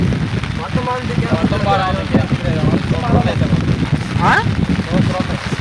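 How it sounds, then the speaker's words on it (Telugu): Heavy rain falls steadily at a night campsite, a constant broadband hiss running under people talking throughout. "వర్షం కూడా అయితే బాగా పడుతుంది"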